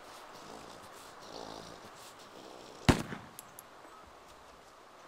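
A single sharp gunshot cracks out in the survival game DayZ, bringing down a zombie. It sounds fairly close against a quiet ambient background, followed by a few faint clatters.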